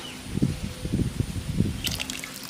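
Lemon juice is poured into a pot of water for ghee rice, a short run of close drips and small splashes followed by a few faint higher clinks, without speech.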